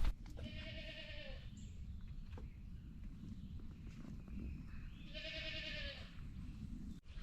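Goats on a farm bleating in two drawn-out calls a few seconds apart, moderately distant over a steady outdoor background hiss with faint rustling.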